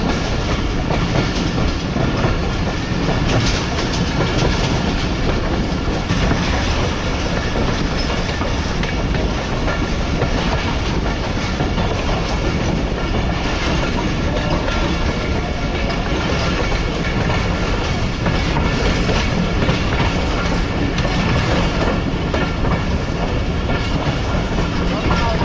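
A passenger train runs on rails just outside Karachi Cantt station, with loud, continuous rumble and steady clickety-clack of wheels over rail joints throughout, close and dense with no pauses.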